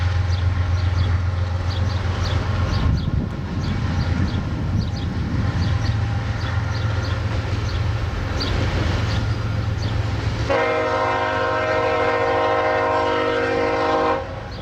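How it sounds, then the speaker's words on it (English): Westbound CSX freight train passing on the B&O line at Fostoria, a loud continuous rumble with rhythmic wheel clatter, then a sustained horn blast sounding near the end. "a westbound train appears on the B&O side."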